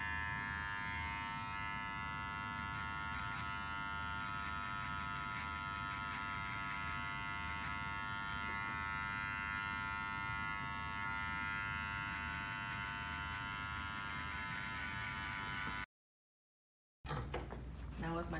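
Wahl electric hair clippers buzz steadily through a haircut at a barber battle, a continuous close hum that cuts out briefly near the end before resuming.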